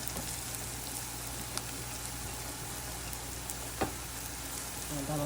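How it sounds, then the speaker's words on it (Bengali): Garlic and ginger paste, with tomato, sautés in hot oil over browned onions for a dried-fish bhuna, giving a soft, steady sizzle with a couple of faint utensil taps. "আমি একটু কষিয়ে নেব।"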